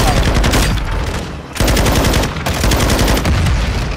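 Sustained machine gun fire in the Call of Duty: Modern Warfare 2 campaign, loud rapid automatic bursts close up with a brief pause in the middle, no talking audible over it.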